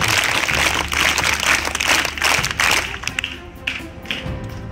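Loud audience applause at a school ceremony honouring scholarship students' parents, a dense burst of clapping that fades out after about three seconds, leaving scattered claps and room noise.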